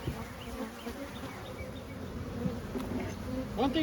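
Aggressive honeybees swarm around an opened hive after heavy smoking, filling the air with a steady, dense buzz that swells slightly toward the end, with a few bees striking close to the microphone.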